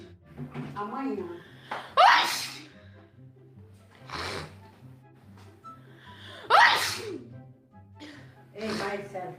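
A person with rhinitis sneezes loudly and repeatedly in a fit, with sharp bursts spaced a few seconds apart and breathy vocal sounds and talk between them.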